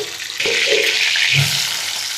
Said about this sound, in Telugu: ఉల్లిపాయలు బ్రౌన్ కలర్ వచ్చే వరకు ఫ్రై చేద్దాం